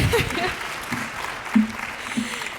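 Audience at the Maltz Performing Arts Center clapping during a concert, a soft, scattered applause under a talking voice with a few brief vocal sounds.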